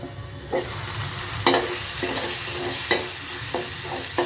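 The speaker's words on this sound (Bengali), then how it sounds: "আমরা দেখতে পাচ্ছি আমাদের মশলাটা কষানো হয়ে গেছে।" Spice masala for a Bengali hilsa fish curry fried and stirred in a pan: a steady, close sizzle with several distinct scraping strokes of the spoon spaced about a second apart, no talking.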